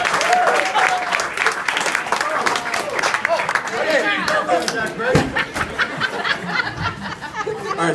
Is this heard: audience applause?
yes